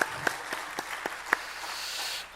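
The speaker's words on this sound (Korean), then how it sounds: "우리 박수 한번 하겠습니다" Scattered hand clapping from a church congregation at a Wednesday worship service, a few sharp claps then a brief soft patter of applause, fairly quiet and without voices.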